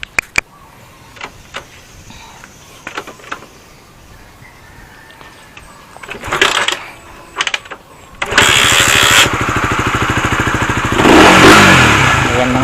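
An RS150 motorcycle with a weak battery is kickstarted: several sharp kicks and clunks, sputtering attempts, then the engine catches and settles into a loud, steady idle with a brief rev near the end.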